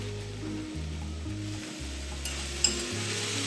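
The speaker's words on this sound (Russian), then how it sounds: "Теперь я беру и все это выливаю" A liquid mixture pours onto a pancake in a hot frying pan, giving a steady soft sizzle with a couple of faint clicks, close and alone.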